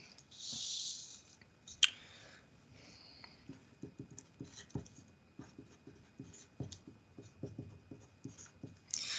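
Pen or marker writing notes during a lecture, a quiet series of short scratchy strokes and taps in an irregular rhythm, close and faint, with no talk over it.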